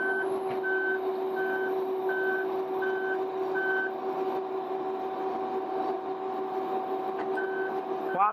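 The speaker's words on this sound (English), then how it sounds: "You heard the beep beep? That's the alert that the travel lift is ready to move." Steady reversing beeps from a boatyard travel lift repeat at an even pace over a constant mechanical hum and engine drone, pausing briefly before resuming near the end.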